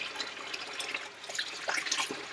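Water runs steadily from a sink tap onto a rusty motorcycle exhaust, a soft continuous splashing and trickling heard close by and fairly quiet, with no talking.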